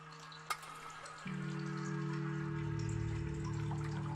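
Steady water flow through a cave in the game Sisyphus Reborn, a continuous rushing wash that swells louder after a brief click, running alone without talk.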